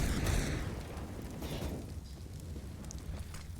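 Grenade blast in a CS:GO match on the Vertigo map: a heavy low boom at the start that decays into a rumbling tail, followed by scattered faint clicks and small in-game sounds.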